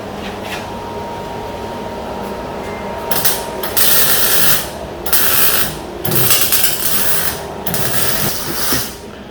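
Crackling, hissing bursts of welding on the exhaust of a BMW E36 2.5 compact repeat in several stretches over a steady workshop drone, with brief pauses between them.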